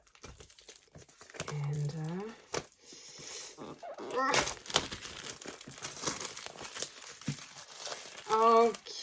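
Plastic shrink wrap being cut and peeled off a collectible box set of illustrated bestiary cards, with close crinkling and tearing bursts between stretches of a person talking.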